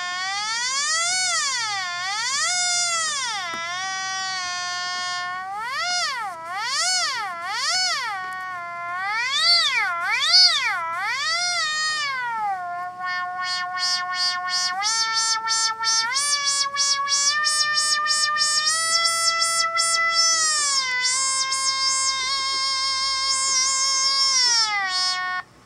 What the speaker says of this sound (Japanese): 新しくコルグから発売になったアナログシンセですけれども、